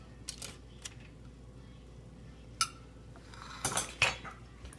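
Sliced flank steak being set onto a plate: a few sparse, sharp clinks and taps of utensil on dishware over quiet room tone, clustered near the end.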